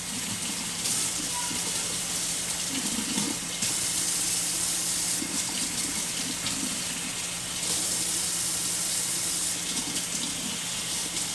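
Lukewarm tap water runs steadily from a faucet into a container being filled to make Kool-Aid, a continuous hiss and splash that carries through the whole stretch with a faint low hum underneath.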